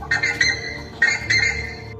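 A man imitates the call of a scarlet ibis, the red guará, with a few short, loud, close whistled cries separated by brief pauses.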